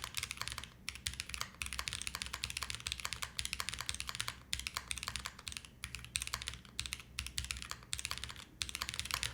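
Fast, steady typing on a curved mechanical keyboard with fairly light-sounding switches, a dense stream of light clacky keystrokes close up, with no voices.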